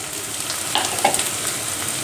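Ground turmeric, chilli, cumin, pepper and garam masala sizzle and fry steadily in a pan for chicken keema, with a few louder stirring scrapes midway and no talk.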